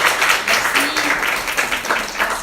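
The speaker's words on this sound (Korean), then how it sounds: "수고해주신 그 마리안 마지디 작가분과 통역해주신 그 최미경 선생님께 박수 부탁드립니다." An audience at a library author talk claps in a continuous, moderately loud wash of applause, with no gaps.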